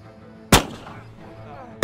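Two sharp gunshots ring out during a fight against attacking Russians in the VR game Wanderer, close and loud, the first followed by a decaying reverberant tail and the second cut off at the end.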